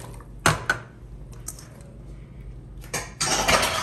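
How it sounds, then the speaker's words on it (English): Drained potatoes dumped from a colander into a pot make a few sharp clattering knocks, followed by a longer rattling pour near the end, close and fairly quiet. "We're going to drain the potatoes in a colander. We're going to dump them in there."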